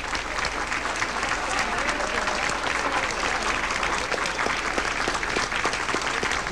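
An audience applauds President Gerald Ford at a 1974 appearance, a dense, steady roar of clapping that holds evenly throughout, with crowd voices blended underneath.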